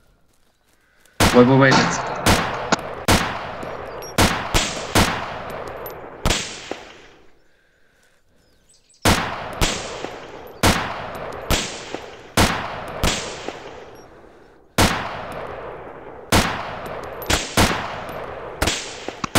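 Rifle shots fired in the survival video game DayZ, about sixteen loud sharp cracks in three quick bursts separated by short pauses, each with a ringing echo tail, while a voice briefly speaks.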